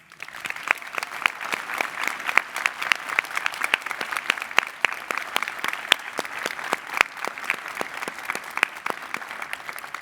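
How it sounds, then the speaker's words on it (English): Audience at a university honors convocation gives a round of applause for honorees and faculty, a loud, continuous crowd clapping with sharp individual claps standing out throughout. "Will our honorees and faculty please join me in a round of applause?"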